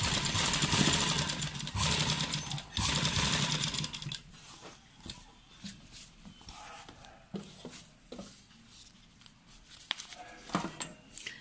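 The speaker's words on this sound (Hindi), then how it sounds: "और अब हम इसे इस तरह सिलते जाएंगे।" A sewing machine stitches a shirt collar, first a loud continuous whirring run, then quieter short bursts of stitching with pauses and handling clicks.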